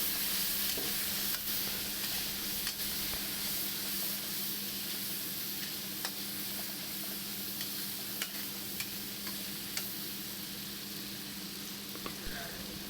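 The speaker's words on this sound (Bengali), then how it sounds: "এবার দিয়ে ভালো করে আমি একটু নেড়ে নেবো" Mixed spices with a splash of water being stirred in a pan for an egg and potato Bengali curry, a steady soft sizzle and hiss with scattered scraping stirs throughout, no talk.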